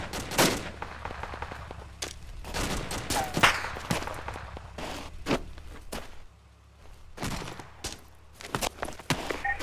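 Repeated gunfire crackles nearby in a military combat video game, irregular single shots and short bursts scattered through the scene, some loud and close, others softer, with a brief lull partway through.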